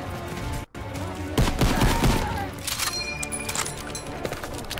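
Dense gunfire bursts in a COD WW2 battle at a farm while shooting an enemy, loud close volleys with rapid crackling shots over a busy background, brief dip before the barrage.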